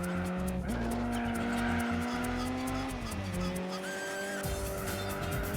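A car engine revs and shifts through gears in Gran Turismo 4, with a continuous tire squeal and skidding hiss, loud and close throughout.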